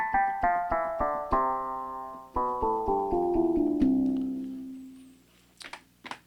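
An FM synthesizer patch set to an inverted 1:4 ratio plays a descending run of bright, bell-like notes, each a sharp plucked attack with a ringing harmonic tail, ending in a sustained low tone, then a few faint clicks.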